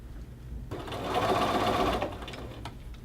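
A sewing machine stitches a men's shirt cuff seam onto the sleeve bottom, a close steady whirring run of about a second and a half that starts and stops, with no voice over it.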